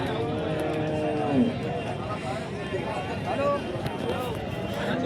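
Cows moo amid a busy crowd at the Chalisgaon cattle market, with people talking and general market commotion throughout; a couple of longer lowing calls stand out.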